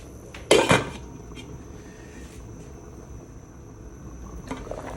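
Okra, chilli and string beans tipped into a pot of pork-bone sinigang, a sharp metallic clatter followed by a quiet bubbling stretch and a softer clank as the lid settles on top.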